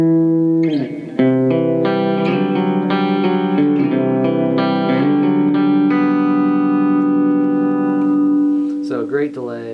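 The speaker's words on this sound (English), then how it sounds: "The Hall of Fame's a really cool single dial reverb pedal" An electric guitar played through a TC Electronic Hall of Fame single-dial reverb pedal rings out in sustained, layered chords with a long reverberant wash, loud and alone, fading into a brief string scrape at the end.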